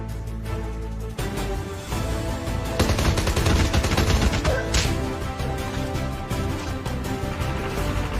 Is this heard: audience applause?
no